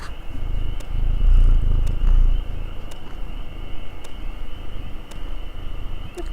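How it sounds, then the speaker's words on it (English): A pet cat purrs close by in a steady, low rumbling rhythm, swelling louder in the middle before easing back, alone with no talking. "I hope you could hear my cat friggin' purring just then"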